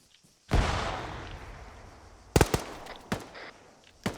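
Gunfire in Arma 3 during a military co-op squad training session: a long rushing burst opens, then several sharp loud reports crack out at irregular intervals, fairly close.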